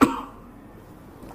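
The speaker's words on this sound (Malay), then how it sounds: "Batuk tak hilang-hilang ni." A single short, sharp cough bursts out at the start, close and fairly loud, then fades into quiet room tone.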